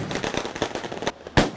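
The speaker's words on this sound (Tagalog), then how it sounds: "Halos yumanig ang paligid sa dami ng paputok na isinalubong ng mga taga-Tondo sa Maynila ngayong bagong taon." Firecrackers go off at a New Year celebration in Tondo, Manila, with a dense run of sharp crackling pops and one loud, close bang near the end.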